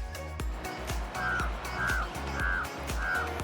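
Crows cawing nearby, a steady run of four or five harsh, evenly spaced caws standing out over light background clutter.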